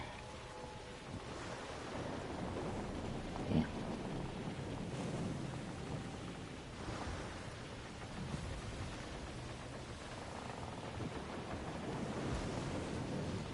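Stormy sea in the pirate-ship game Skull & Bones, with steady broadband wind and crashing waves surging around a sailing ship, swelling in repeated gusts over about fourteen seconds; no clear thunder cracks stand out.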